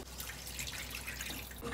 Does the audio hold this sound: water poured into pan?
yes